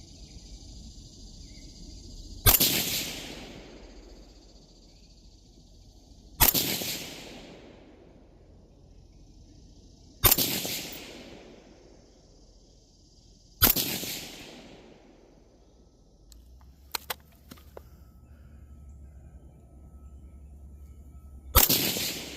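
Five loud rifle shots at long-range targets, each a sharp crack with a short echoing tail. They come at an even pace about four seconds apart, with a few faint clicks in between.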